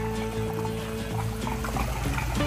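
A small plastic toy alligator is tossed into a backyard swimming pool, followed by sloshing and trickling water, close and moderately loud over a constant background hum.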